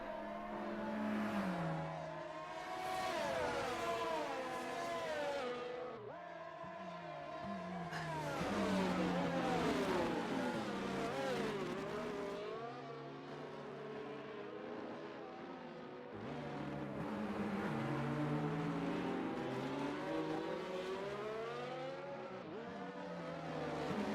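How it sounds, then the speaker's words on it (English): A Mercedes-AMG safety car in an F1 racing game at the Singapore Grand Prix revs through repeated gear changes. Its engine note rises and falls in sweeping waves, quite faint, with no talk over it. "And there's our wonderful AMG safety car coming underway"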